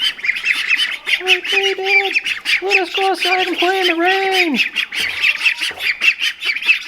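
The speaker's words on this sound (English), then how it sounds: "Got some quackers down here." Farm ducks kept in a bin overnight squawk and quack in a loud, close series of calls, while people talk over them.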